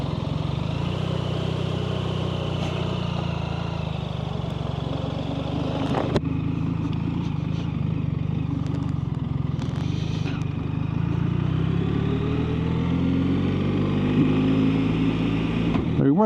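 A 2026 BMW R1300RT LE motorcycle rides along with a steady engine drone and rushing wind noise, pitch rising and falling as it accelerates through the gears, with a voice speaking over the ride.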